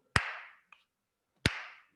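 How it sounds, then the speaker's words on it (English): Two sharp hand claps about a second and a quarter apart, each ringing with a short room decay, with a faint tap between them, marking the beat in a music workshop. "at the beginning of each broken part, I'm putting a clap"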